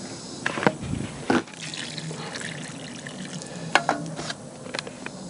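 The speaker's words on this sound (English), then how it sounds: "Here's some pretty clean water." Clean water poured into a small bucket while preparing cement for patching carpenter bee holes: splashing and trickling liquid with a few louder sloshes and knocks, close and uneven.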